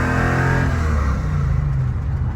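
A 1970 Dodge Super Bee with a 383 engine revs loudly up close, the engine note rising then sagging and stumbling in a brief hesitation before settling back.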